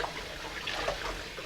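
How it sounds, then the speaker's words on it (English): Cold tap water runs steadily while lettuce leaves are rinsed to clear away dirt and bugs, a soft, continuous trickling splash at close range with no talking. "So make sure you wash well the leaves."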